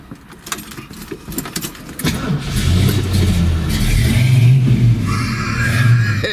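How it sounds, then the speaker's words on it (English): A Mercury Cougar XR7 coupe's Cobra Jet V8 cranks, catches and roars to life, then settles into a deep, loud rumble with a rev, heard close up. "It does come to life with a pretty menacing roar"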